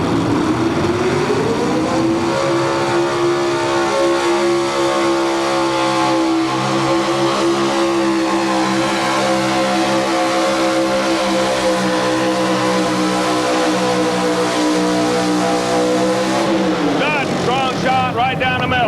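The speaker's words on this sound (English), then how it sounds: "370 cubic inches, single 4-barrel carburetor. That's what super stock truck pulling is all about." A super stock pulling truck with a 370 cubic inch engine and single 4-barrel carburetor revs hard and holds a loud, sustained roar for most of the stretch before the pitch climbs, with an announcer talking over it.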